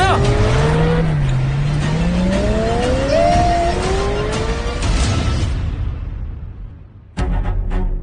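A car skids to a halt just short of a child, tires squealing in loud rising and falling glides over a roaring engine before the noise cuts off abruptly, then a brief burst resumes.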